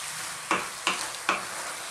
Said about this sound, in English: I'm just going to throw that around in the pan.